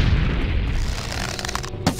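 A fire spell cast in Morrowind, a steady low rumbling whoosh throughout with a short sharp burst near the end, loud and close.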